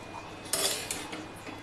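Metal utensil clinking against a pan while pasta is mixed, a brief burst of bright clatter followed by a couple of softer clinks, close and fairly quiet.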